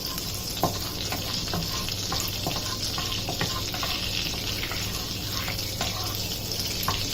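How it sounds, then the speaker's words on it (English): Butter melts and sizzles in a hot pan for Creamy Paneer Makhani, with a continuous frying hiss broken by the scrape and clink of a spoon stirring. "Then we are going to stir this. Let the butter melt first."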